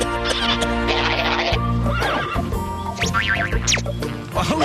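Horse neighing repeatedly in loud, close whinnies with rising and falling pitch, set in a comedic studio scene with other bright sound effects mixed around the calls.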